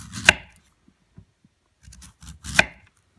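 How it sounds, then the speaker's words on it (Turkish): A knife slicing black radish into thin slices on a board, a few sharp separate cuts with short quiet gaps between them, close and clear with no talk. "bir bıçak yardımı ile ince ince dilimler keseceğiz"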